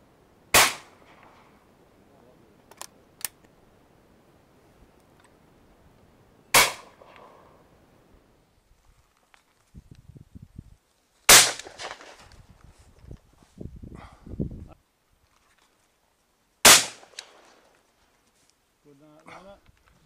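Four sharp, loud shotgun blasts ring out at intervals of several seconds while pigeon shooting outdoors over a magnet decoy, each with a short ringing tail, with quieter rustling and handling noises in between.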